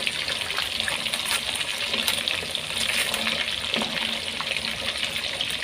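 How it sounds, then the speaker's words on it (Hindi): Kasuri-style masala fish fries on a tawa with a steady, dense sizzle that holds at an even level throughout, close by and with no voices. "अब इसको फ्राई होने देंगे हम।"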